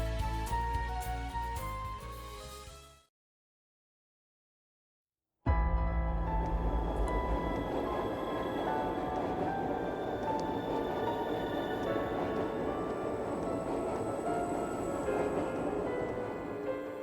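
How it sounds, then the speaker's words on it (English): A tram arriving and running in the video game Trails of Cold Steel 3, a sustained rolling rumble with metallic rail hum, broken by a brief silence before the steady, loud running noise resumes. "Ah, the tram came at the perfect time."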